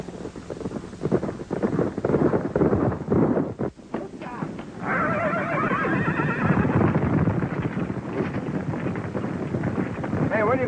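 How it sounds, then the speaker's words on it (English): Horses whinny loudly up close while hooves clop on the ground in an outdoor ranch setting, with wind rumbling against the microphone and a voice speaking briefly among the animal sounds. "As soon as Ward gets through checking these horses."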